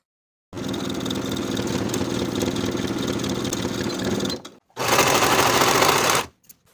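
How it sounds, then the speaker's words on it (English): A sewing machine stitches the yoke seam on carpenter pants in two steady whirring runs, a long one of about four seconds, a brief pause, then a shorter run. The sound is close and continuous. "Sew with a 1/2 inch seam allowance, finish the raw edges together and press up toward the yoke."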